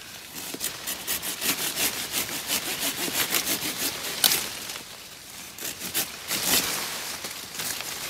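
A hand saw cuts through small avocado tree branches in a steady back-and-forth rhythm of rasping strokes, close and fairly loud, with no talking.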